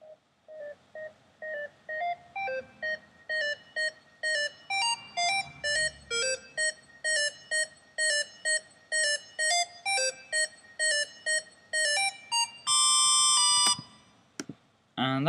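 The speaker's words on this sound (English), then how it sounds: "it is basically just a square wave, and there's nothing more to it than that" Square wave synth patch built in NI Massive plays a rising sequence of short, evenly spaced bleeping notes that climb steadily in pitch, then ends in a dense sustained burst and a quick cutoff.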